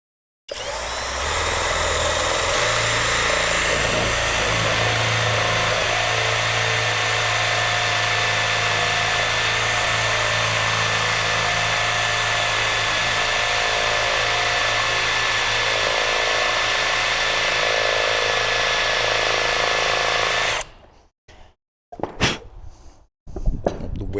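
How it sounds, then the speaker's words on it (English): A power drill bores into wood during a woodworking session, running as one loud, continuous whine for about twenty seconds before it stops, followed by a few brief knocks and clatters. "And we're drilling."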